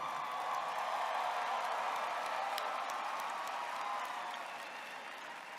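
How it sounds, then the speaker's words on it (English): Distant, sustained audience applause fills a large graduation commencement venue, an even wash of many hands clapping that slowly fades toward the end. "please join me in showing our deep appreciation with an enthusiastic round of Aggie applause for everyone"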